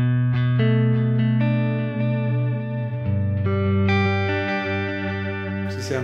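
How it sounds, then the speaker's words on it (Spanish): An electric guitar played through a Humboldt Simplifier pedal with delay switched on rings out in sustained, distorted notes and chords, each change trailing into repeating echoes. "Voy a prender mi delay en este momento."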